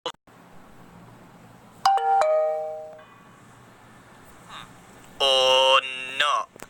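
A village bell is struck in Minecraft, ringing out in bright, sustained metallic tones, first around a couple of quick strikes and later in a louder, longer ringing burst, over a quiet game background.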